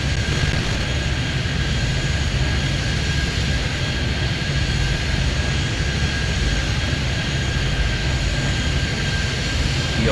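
A jet airliner's engines roar steadily through a takeoff roll in the Airport Madness airport game, a loud continuous broadband rumble with a faint high whine, unbroken and without voices.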